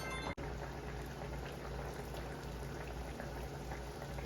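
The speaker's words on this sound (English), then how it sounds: "we are just gonna sit here, let it fry" A dense, steady sizzle and crackle of floured chicken frying in hot oil in a pan, continuous and close, with one brief dropout near the start.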